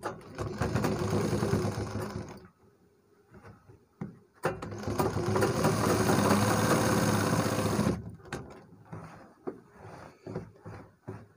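A sewing machine stitching the side pocket of a kurta, with two loud bursts of fast, rhythmic needle clatter separated by a brief pause, then scattered light handling clicks.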